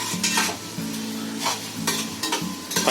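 Tomatoes going into veg pulao frying in a large pot, a close sizzle broken by repeated scraping stirs and a low steady hum underneath.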